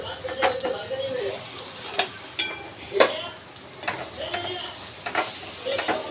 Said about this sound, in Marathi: छान अशी आपली मिरची फ्राय झाली आहे तेलामध्ये